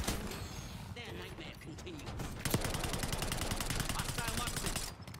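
A PP-919 submachine gun fires in Black Ops 6, heard as dense rapid bursts, with a sharp louder burst midway, while players talk over the shooting.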